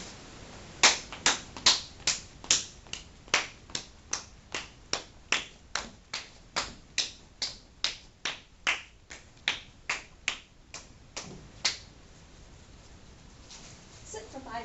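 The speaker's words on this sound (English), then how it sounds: "Sit for 15 seconds while you clap your hands and jog." A person sits and claps their hands in a steady rhythm during a dog relaxation training exercise, roughly twenty crisp, close, evenly spaced claps that stop near the end, followed by quiet.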